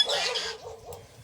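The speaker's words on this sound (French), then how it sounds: "les oies" Geese on a farm in a village in Isan, Thailand, let out a short burst of close, loud honking calls that fall away within about a second.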